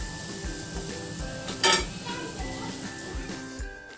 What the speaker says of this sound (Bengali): এই শিরার মধ্যে বড়াগুলো ছেড়ে দিচ্ছি।